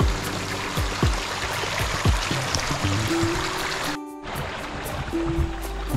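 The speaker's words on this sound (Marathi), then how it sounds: "आणि इथे हा पाण्याचा प्रवाह." A forest stream that feeds a waterfall gurgles and trickles steadily nearby, with soft splashes and a brief dip in the flow partway through.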